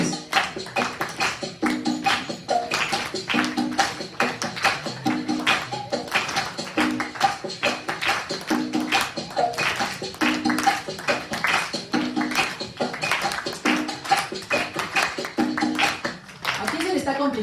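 A group in a school workshop claps and stomps together in a steady repeated rhythm, sharp evenly spaced hits sustained at moderate loudness throughout.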